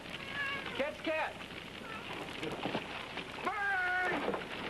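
Several drawn-out cat meows rise and fall, with a pause between them and another pair near the end, over a voice talking and background noise.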